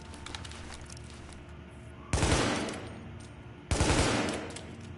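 A tactical rifle fired in The Division video game, two heavy, loud single blasts about a second and a half apart, each with a decaying tail, over a low background hum.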